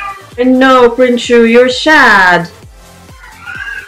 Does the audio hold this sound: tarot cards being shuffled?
no